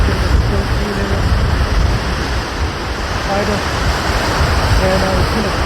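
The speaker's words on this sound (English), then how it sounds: "The waves come in" Waves rolling onto the rocky Lake Superior shore in stormy fall weather, a steady loud roar of surf and wash with no clear breaks between swells.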